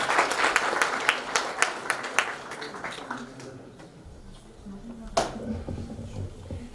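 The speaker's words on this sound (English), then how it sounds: "One more applause for the Albanian companies and our partner, Alida" Applause at a business-to-business event honoring Albanian companies starts as distinct, fairly close claps for a few seconds, then fades into room murmur with one last sharp clap.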